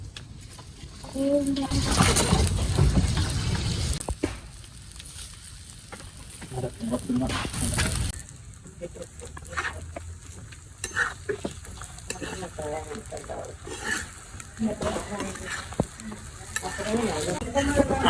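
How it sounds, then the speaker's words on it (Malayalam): Coin parotta, small Kerala flatbreads, laid into a well-heated pan and frying with a crackling sizzle that swells in loud bursts and eases between them, with scraping and handling noises mixed in. "നമുക്ക് കോയിൻ പൊറോട്ട നമ്മളെ ചട്ടിയൊക്കെ നല്ല ചൂടായിക്കണേ നമുക്ക് ഇട്ട് കൊടുക്കാം കേട്ടോ"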